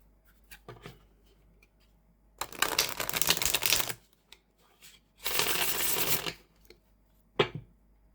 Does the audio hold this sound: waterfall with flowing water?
no